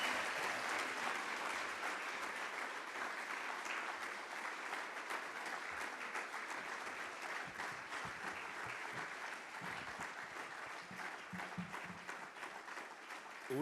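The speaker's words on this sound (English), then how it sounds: "another round of applause for the executive mother" An audience at a public-private forum in Namibia applauds: sustained, even clapping from a large crowd that continues steadily for a long stretch with no voices above it.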